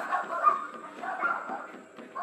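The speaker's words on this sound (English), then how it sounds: "The neighborhood dogs start barking as he continues to holler," Several neighborhood dogs bark at night in a scattered, overlapping chorus, moderately distant and fairly quiet, with no clear voice on top.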